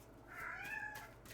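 Croquette, a pet cat, gives a single drawn-out meow, fairly close and clear over quiet room tone.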